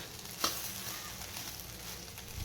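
Garam masala being stirred into a sizzling soybean rice dish in a pan, a soft steady frying hiss with a sharp spoon clink near the start and a scrape at the end.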